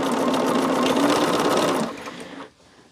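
A sewing machine stitches a quilt block at night, running steadily and close for about two seconds before it slows and stops.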